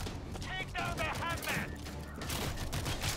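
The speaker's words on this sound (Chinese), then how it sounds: "Stationary machine gun in position." Stationary machine gun in the zombie shooter World War Z rattling off a steady burst of rapid, loud shots for about three seconds, with game effects layered underneath.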